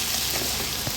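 Sliced snake gourd (chichinga) sizzling in hot oil while being stirred in the pan, a steady crackling fry with soft scraping movement and no talking.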